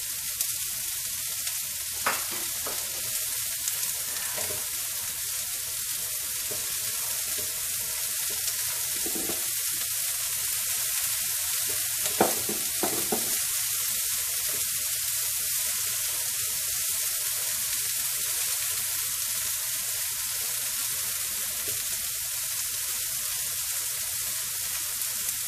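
Carrots and peas frying on a hot hibachi griddle make a constant broad sizzle up close, with occasional light scrapes and taps of a spatula stirring the vegetables.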